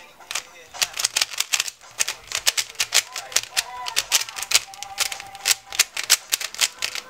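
A puzzle cube being turned quickly by hand, giving a dense run of sharp plastic clicks and clacks in uneven rapid bursts, close and fairly loud throughout.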